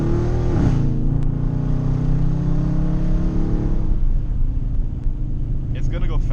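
Loud Dodge Charger engine rising in pitch as it accelerates through second gear, a steady close drone with a shift near the four-second mark, heard from inside the car under someone talking.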